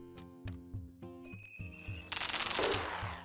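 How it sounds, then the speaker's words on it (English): A remote explosive detonates in the video game Rimworld: a few sharp clicks over steady tonal game music, then a dense, bright burst of explosion noise that swells and lingers for about a second. "So there we go, we'll detonate this one."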